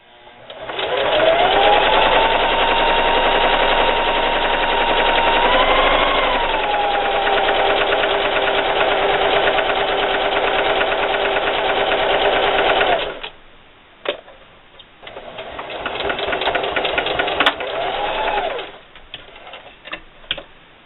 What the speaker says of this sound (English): let the sewing machine do all the work